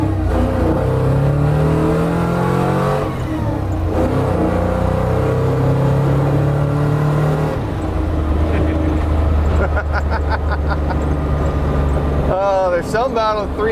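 Ford 351 Windsor V8 with a fairly substantial camshaft in a custom Bronco, loud throaty engine revving and driving with shifting pitch, accompanied by talking.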